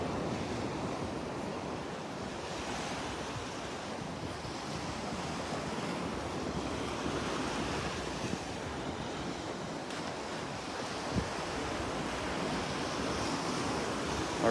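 Waves and wind on a Gulf beach at Delnor-Wiggins, a steady broadband roar of surf with gusty wind buffeting the microphone, continuous and fairly loud throughout with no speech.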